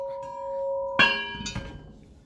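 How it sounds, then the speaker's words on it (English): A large, old dinner bell that once hung outdoors, rung by hand indoors in a front room: a sustained ringing tone, then two loud clangs about half a second apart, each ringing out and fading. "love the big dinner bell"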